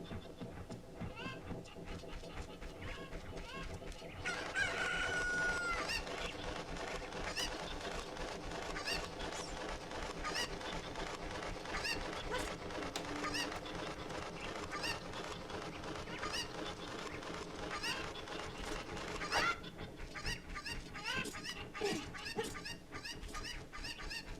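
Chickens cluck and squawk continuously in The Legend of Zelda: Ocarina of Time, layered over busy game music and effects throughout.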